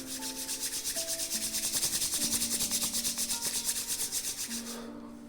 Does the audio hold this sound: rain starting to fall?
no